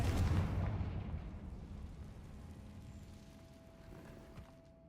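A loud blast from the Confringo spell in Hogwarts Legacy opens with a heavy boom, then rumbles and fades slowly into a low, echoing decay, with no talk over it.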